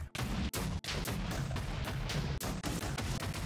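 Grenades blasting in Minecraft, a rapid run of loud, booming explosions that crowd together almost without a break and carry on steadily from start to finish.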